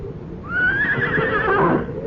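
A horse whinnies once as a sound effect in a radio mystery drama, a clear rising-and-falling neigh of about a second and a half, fairly loud and close, with no voices over it.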